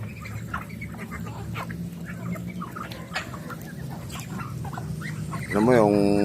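Chickens, turkeys and ducks at feeding time on a muddy farm, a steady clucking din with a louder honking call near the end, while a person talks over it.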